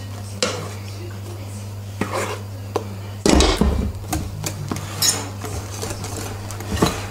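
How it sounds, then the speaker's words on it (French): Sweetened, stiffly beaten egg whites are mixed into bûche de Noël sponge batter. A utensil knocks and scrapes against a bowl in irregular clinks over a steady low hum. "nos blancs sont serrés, sucrés. Et on mélange le tout."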